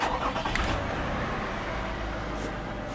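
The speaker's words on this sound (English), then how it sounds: "Now we'll just start the engine and we'll check under for any leaks." A second-generation Lexus RX 350 engine running just after being started during an oil change, a steady mid-low engine hum at close range with no talking.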